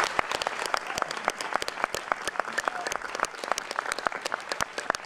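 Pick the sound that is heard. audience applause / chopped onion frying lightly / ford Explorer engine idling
audience applause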